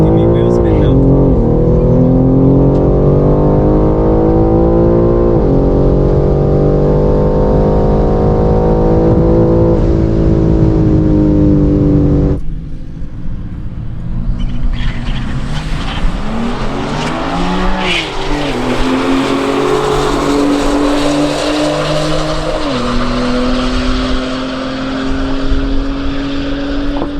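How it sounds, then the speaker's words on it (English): A BMW G80 M3 Competition launches hard at a drag strip, its engine loud and close, revving and droning high before a sudden cut, then roaring again amid the scrabbling hiss of wheel spin. "give me a good launch, or consistent one at least. There we go. No, just give me wheel spin now"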